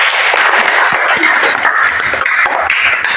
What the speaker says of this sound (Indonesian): mari kita beri tepuk tangan untuk Anita.